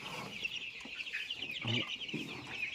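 Eight-day-old broiler chicks peep continuously in a brooder, a dense chorus of high, rapid chirps close by, with a few lower clucking sounds mixed in.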